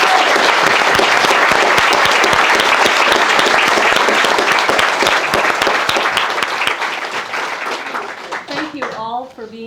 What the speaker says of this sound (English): Now we get to applaud.